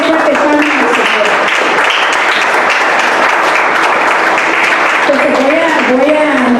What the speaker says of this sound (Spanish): Debe fuerte palmas al Señor.